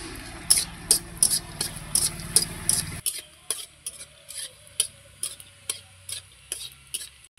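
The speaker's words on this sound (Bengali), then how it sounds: "কটা বড়ি ভেজে নেব।" Bori lentil dumplings frying in oil in a wok: a dense sizzle fades after a few seconds, followed by regular clinking stirs of a spatula against the pan.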